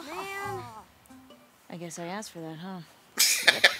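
A house cat meows close by, several drawn-out, wavering cries in a row, with someone speaking briefly between them and rough, coughing noises at the end.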